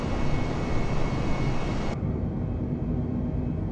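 Airbus A320neo jet engines in a flight simulator game give a steady, loud broadband roar that drops sharply in its upper range partway through, leaving a duller continuous rumble with no talk.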